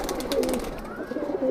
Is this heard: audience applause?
no